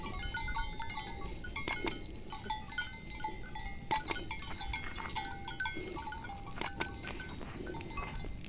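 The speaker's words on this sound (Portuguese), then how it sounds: "O bode encheu o bucho." Goats bleating on a farm with livestock pens, several short calls scattered at moderate distance over a quiet outdoor background, with faint clinks like a bell in between.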